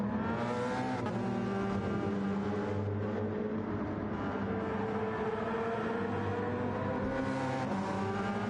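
A Porsche race car in an endurance race at Barcelona-Catalunya, its engine holding a loud, sustained drone with shifting pitch as it passes, mixed with other engine noise and no talk.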